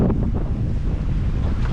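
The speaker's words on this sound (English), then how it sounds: "Hey, winds are up, seas are up." Strong wind buffets the microphone aboard a sailboat crossing rough seas between St Lucia and Bequia, a loud, constant low roar with waves washing against the hull, close and unbroken.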